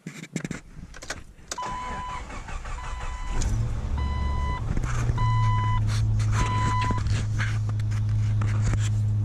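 A 1997 Jeep TJ Wrangler engine, after alternator replacement, cranks and catches, then idles with a steady hum while a warning chime beeps in regular short tones.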